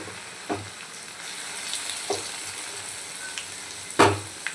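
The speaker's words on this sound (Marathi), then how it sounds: "छान मसाला असं परतून घ्यायचं आहे आपल्याला." Ground masala with red chilli powder and coriander sautés in a pan for Kolhapuri chicken masala, a steady oil sizzle broken by a few scraping stirs of the spoon.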